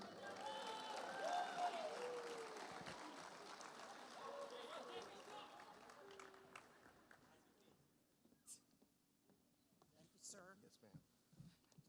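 Audience at the Indiana State University SAMYS 2022 awards ceremony cheering and applauding a university president, loud at first and then fading into scattered claps and a few voices.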